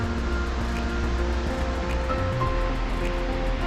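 Waterfall in the snow on a forest hiking trail, a steady, dense roar of rushing water filling the scene without a break, with no voices.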